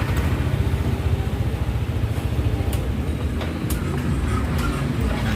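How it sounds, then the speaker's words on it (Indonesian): A Yamaha NMAX scooter engine, just repaired after a dirty starter switch, runs with a loud, steady low rumble and rapid mechanical pulsing that continues close up for the whole stretch, with no voices. "Nah, di sini starternya itu udah bisa nyala kembali"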